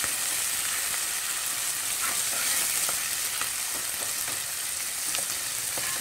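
Country chicken curry with coriander fries in a pan, a constant close sizzle with faint stirring scrapes scattered through; no talking.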